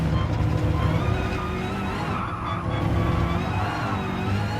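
A BMW M6 in the Gran Turismo racing game, its engine droning loudly with tyre noise as it brakes hard into a corner, a continuous dense roar with a brief dip midway.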